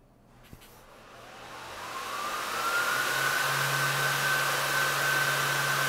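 A click, then a powerful laptop cooler fan spins up from quiet to a loud, steady roaring whoosh with a rising whine that settles into a constant high tone.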